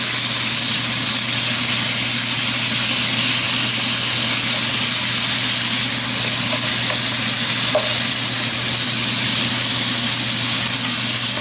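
Pork pieces frying in a hot pan while being stirred and moved around, a loud continuous sizzle with a steady hum underneath and faint scraping from the stirring, with no voices throughout.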